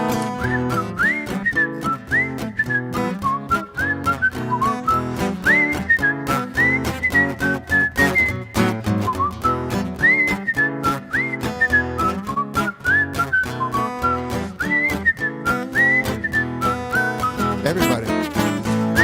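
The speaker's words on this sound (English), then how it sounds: "I'm gonna whistle me a happy tune." Person whistling a happy tune at a church Sunday service, a lively melodic run of bright whistled phrases sustained throughout over accompanying music.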